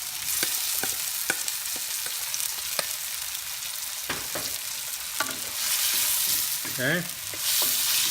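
Chopped tomatoes cooking with garlic in a pan for perch sarciado, a continuous sizzle with repeated spoon taps and scrapes that swells louder near the end, with a brief spoken word.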